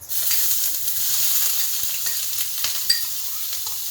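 Shallots sweating gently in three spoonfuls of olive oil for a scallop risotto, a steady soft sizzle with occasional light stirring scrapes and small pops, close and continuous with no talking.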